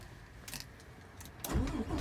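A truck engine starts with the clutch in during a safe-start check, turning over and catching into a low rumble near the end, close and moderately loud, with a faint jingle of keys before it.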